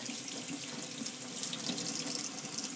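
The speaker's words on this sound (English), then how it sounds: "Let the water run over this part, the silver part." Warm water running steadily from a tap into a sink while a makeup brush is rinsed, a constant close splashing stream with no talk.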